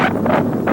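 Strong wind buffets an outdoor microphone in loud, rolling gusts that swell and dip over a brief moment, with no other sound.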